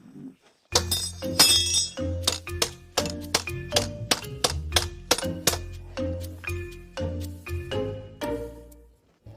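A series of sharp metallic clinks and cracks, a dozen or more irregular strikes, as a water-quenched steel bar is bent and broken, close and fairly clear with short ringing tails.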